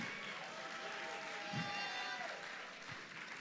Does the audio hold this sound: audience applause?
yes